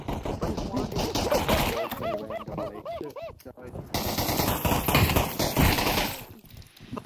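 Rapid automatic gunfire in the Fortnite video game, loud and sustained bursts with a pause in the middle, mixed with game noises and overlapping voices talking.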